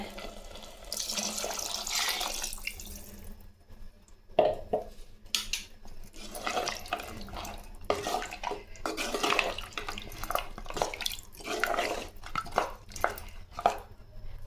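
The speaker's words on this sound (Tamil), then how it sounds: "இப்போ மசாலா ஆக்ஷனில் நம்ம அந்த ஜாரு கழுவி தண்ணி சேர்த்துக்கலாம்" A masala grinder jar is rinsed under a running tap and topped up with water: bursts of gushing flow alternate with sloshing, clinks and short pauses, close by and moderately loud.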